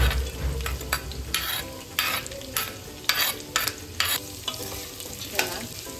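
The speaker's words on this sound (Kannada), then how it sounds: "ಈರುಳ್ಳಿ ಚೆನ್ನಾಗಿ ಫ್ರೈ ಆಗಲಿ, ಗೋಲ್ಡನ್ ಬ್ರೌನ್ ಬರೋವರೆಗೂ ಚೆನ್ನಾಗಿ ಫ್ರೈ ಮಾಡ್ಕೊಳ್ಳಿ" Onions frying in a pan while being stirred toward golden brown for capsicum rice, with a constant sizzle broken by repeated sharp spatula scrapes and clinks at an irregular rhythm, close and prominent.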